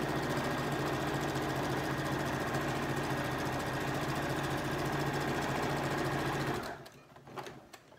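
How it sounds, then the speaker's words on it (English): A domestic sewing machine runs steadily while stitching the folded hem of an envelope cushion cover, a loud, even mechanical whir for about six and a half seconds before stopping abruptly, followed by a few faint handling clicks. "we're going to sew all the way down as close to that seam as that folded edge as possible."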